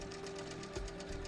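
An HQ longarm quilting machine sews a tacking stitch through fabric, making a faint, rapid, even mechanical patter in a quiet room.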